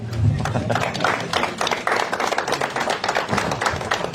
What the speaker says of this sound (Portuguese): Palmas para o Diniz, né?